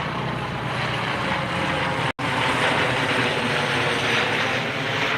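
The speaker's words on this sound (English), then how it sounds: "there goes a medevac." A medevac helicopter passing overhead near Washington, D.C., a loud, steady broadband rotor and engine roar that fills the whole stretch with no talking.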